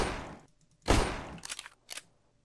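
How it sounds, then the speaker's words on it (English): Gun reload and shooting sound effects in Minecraft: one loud sharp blast followed by two quicker clicking, mechanical bursts, isolated against near silence. "that's the reload and shoot sound effects setup"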